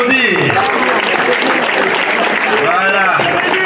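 Guests clap for the couple's friends at a customary wedding in Brazzaville, a steady round of applause mixed with lively music and voices over the top.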